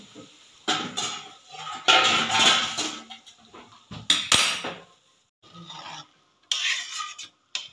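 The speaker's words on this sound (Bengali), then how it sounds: "এবার ঢাকা দিয়ে দেবো" A metal lid is handled and set onto a cooking pot of jackfruit and potatoes, with several bursts of clattering, scraping metal knocks separated by short pauses, fairly close and loud.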